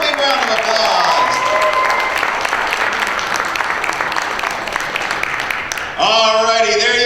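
Loud sustained audience applause with scattered cheers greets a pageant contestant at the Miss Armada 2025 pageant, a continuous dense wash before it cuts off near the end and a voice speaks.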